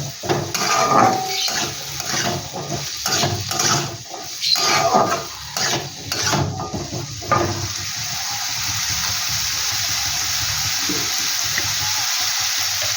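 Onion and new potatoes fry in a pan while being stirred, rhythmic scraping strokes over a steady hiss for several seconds, then the stirring stops and only the continuous frying sizzle remains, close and fairly loud.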